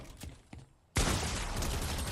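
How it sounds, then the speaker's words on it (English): A cannon fires in a Fortnite Zero Build match, a sudden loud blast that cuts in after quiet game sounds and leaves a sustained roaring wash of noise. "Of course that guy can shoot me with the cannon?"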